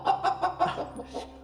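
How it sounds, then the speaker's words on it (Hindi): A black rooster kept in a basket gives a quick series of about six clucking calls in an even rhythm, fairly close and moderately loud over a low steady hum. "ये आवाज किसकी है? काले मुर्गे की।"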